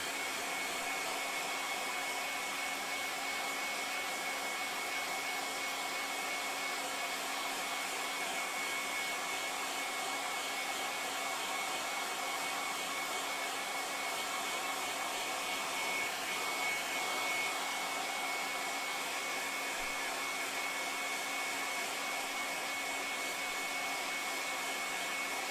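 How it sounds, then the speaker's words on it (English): A hair dryer blows hot air onto drying paint, a steady, even whirring hiss with a faint motor whine, running continuously and unchanged at moderate volume. "with the heat from the air dryer, we can see it drying like magic in front of our eyes"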